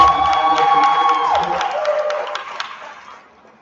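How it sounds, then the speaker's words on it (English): Crowd at an 8th-grade promotion ceremony cheering and clapping for graduating scholars, a loud continuous burst of applause with whoops and shouts that tapers off toward the end. "All of our scholars, let's give a round of applause for them."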